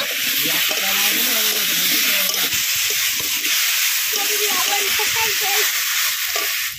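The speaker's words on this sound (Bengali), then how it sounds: "এবার ওল 2-3 মিনিট ধরে ভেজে নেব।" Elephant foot yam frying in a pan with salt and turmeric, a steady broadband sizzle running throughout, close and fairly loud, with faint clinks and stirring sounds beneath.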